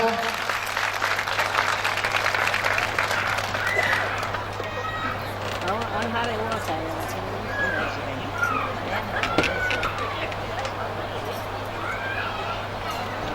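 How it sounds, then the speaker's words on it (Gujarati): An audience at a Shrimad Bhagavad Katha religious gathering claps steadily and warmly for several seconds. The clapping starts strong and then thins out, with voices and crowd murmur underneath. "બધા જોરદાર તાળીઓથી વધાવો"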